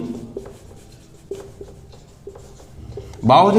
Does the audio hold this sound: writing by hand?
yes